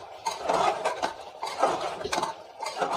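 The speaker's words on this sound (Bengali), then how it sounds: "আলুটা দিয়ে একটুখানি আমি কষবো" Fried potatoes stirred into a spiced chicken masala in a pan, with repeated scraping and clinking of a utensil against the pan in uneven bursts, close and moderately loud, no voice.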